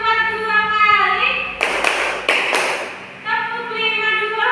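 Children in a third-grade classroom clap a short rhythm pattern together, a brief cluster of group claps set between a woman's spoken instructions.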